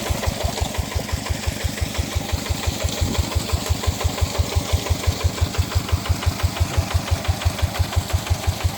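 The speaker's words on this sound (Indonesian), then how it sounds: "Traktor tua dimodifikasi menjadi pompa air." An old tractor engine modified to drive a water pump chugs steadily with a regular, knocking low thump, close and continuous with no speech.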